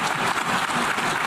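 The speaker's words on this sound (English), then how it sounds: "Sustained applause after his speech." Sustained applause from an audience following a political speech on a news broadcast, a dense, steady wash of clapping that stays loud and even throughout.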